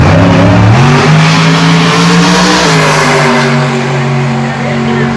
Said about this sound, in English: that car that just went down the track was the most world's famous 57 Chevy race car